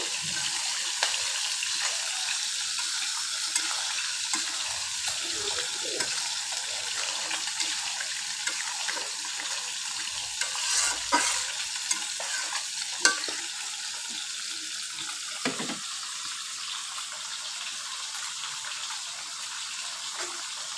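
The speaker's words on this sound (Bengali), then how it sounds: "আমি এখন একটু নাড়াচাড়া করে দিচ্ছি" Mixed vegetables are stirred in a pan, making a soft, continuous sizzle with wet, watery bubbling and occasional scrapes and taps of the spoon, heard close and fairly quiet, with no speech.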